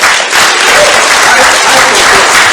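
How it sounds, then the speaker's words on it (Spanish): Church congregation breaking into loud, sustained applause, a dense continuous clapping that fills the room from start to finish with no talk over it. "Denle un aplauso a Dios por la vida de ellos."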